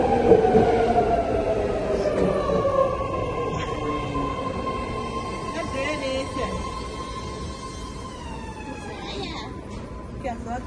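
A train passing nearby, a loud continuous rumble with a long sliding horn-like tone slowly falling in pitch, steady roar fading slightly toward the end, voices faintly underneath.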